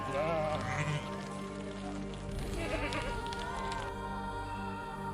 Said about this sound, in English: Out here, it's common to share the road with sheep,